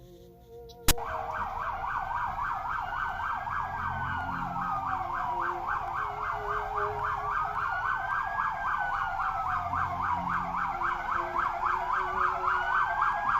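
A wailing siren cycles up and down continuously, fairly close and loud, after a sharp click at the start, with traffic rumbling underneath.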